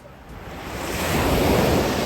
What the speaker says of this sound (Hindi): हर एक सेकंड पे एक नई लहरें खिलखिलाती हुई आती है, किनारों के रेत को छूती है और फिर विलीन हो जाती है वापस समुद्र में।